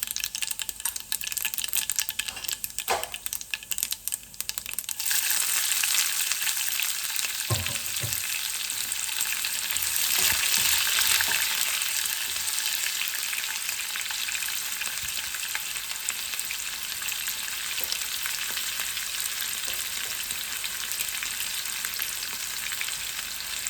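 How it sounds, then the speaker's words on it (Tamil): Steady, loud sizzling of fennel seeds frying in oil, with occasional scraping stir sounds and clicks, continuing throughout without talk. "பெருஞ்சீரகம் போட்டுக்கொள்வோம்."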